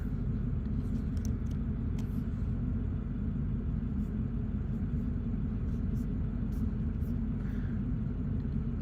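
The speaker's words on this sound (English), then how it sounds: "Ah, the sound of a big diesel engine." Big diesel truck engine idling inside the cab on a cold day, a steady deep low rumble that holds evenly throughout with faint higher clicks above it.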